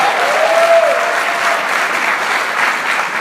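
Church congregation applauding, a dense steady wash of clapping throughout with a brief voice tone rising early under it.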